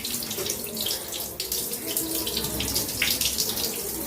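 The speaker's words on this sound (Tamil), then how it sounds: "தண்ணியை வடிச்சிட்டேன்." Water rushes steadily as it drains off a kilogram of biryani rice that was washed and left to soak for half an hour. The flow sounds close, loud and continuous, like a running tap, with no talking.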